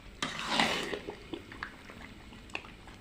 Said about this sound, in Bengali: এইভাবে আমি চুলার জালটাকে মিডিয়ামে রেখেই এইভাবে আমি সুন্দর করে নেড়ে চেড়ে আচারটাকে আমি বেশ কিছুক্ষণ ধরে রান্না করে নিচ্ছি